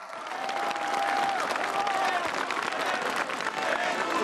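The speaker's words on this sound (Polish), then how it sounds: "ale wielkie, ogromne brawa!" Crowd applause at a Polish Independence Day march rally, honouring soldiers and police guarding the border; a dense, steady wash of clapping with a few whistle-like tones, mingled with crowd voices throughout.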